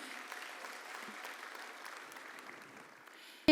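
A crowd at an inaugural Minorities Rights Day event at Bomas of Kenya claps in a distant, faint, sustained patter of applause, cut off by a sharp loud burst at the very end.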